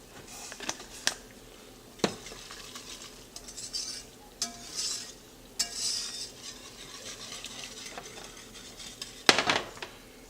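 A spoon stirs a chili-seasoned sauce in a pot, making soft scraping strokes with a few sharp metal clinks spread across the stretch. It is close and moderately quiet, with no talking.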